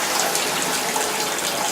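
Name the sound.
hot water running from a tap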